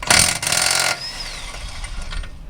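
A pneumatic impact wrench on a Honda EG Civic teardown rattles in a loud burst just under a second long, then fades to a quieter whir and a falling whine that spins down.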